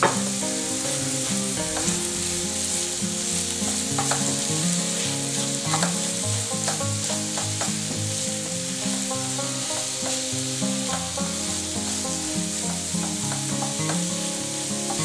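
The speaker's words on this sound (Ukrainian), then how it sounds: "І знову все ретельно перемішуємо." Mushrooms cooking with salt and spices in a pan for a homemade pizza topping, with a steady sizzle and stirring sounds running under background music, without speech.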